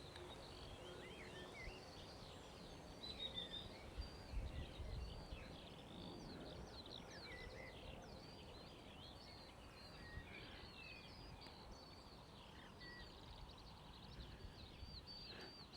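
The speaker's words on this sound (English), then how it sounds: "Some beautiful birdsong at the moment, which I'm hoping the microphone will pick up for you." Birds singing in a summer field near White Bridge, Offchurch, on a June day, a faint scatter of chirps and trills over quiet background hiss, with insects buzzing softly.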